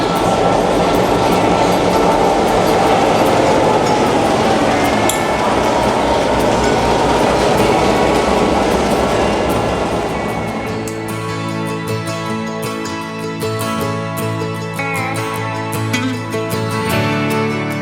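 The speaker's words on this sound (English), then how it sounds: "There's the train." A train rolls through Bryson City, North Carolina, a loud, continuous rumble with rhythmic clickety-clack of wheels on rail, its heavy low roar easing after about ten seconds into a steadier, lighter clatter with tonal ringing.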